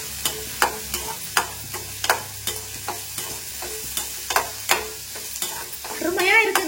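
A spatula stirs crushed turkey berries sautéing in hot oil for a chutney. Sharp, evenly spaced metal taps land against the pan over a light sizzle, close up, with a louder splutter near the end.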